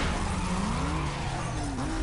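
A Porsche Carrera GT skids in a street-racing game, tires squealing in a long rising and falling whine over a loud, steady engine roar, close and continuous.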